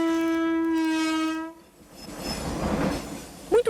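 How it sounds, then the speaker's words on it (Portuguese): A locomotive sounds a long, loud, steady horn blast at a railway crossing. The horn cuts off, and a rumbling, rising roar of the passing train follows, ending with a brief squeal. "Sentir a presença forte, barulhenta de uma locomotiva."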